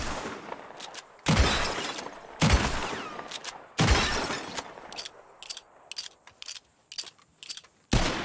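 Gunfire in the video game Red Dead Redemption 2 during a shooting contest: several loud, sharp shots with short echoing tails ring out a second or two apart, followed by scattered smaller clicks and impacts.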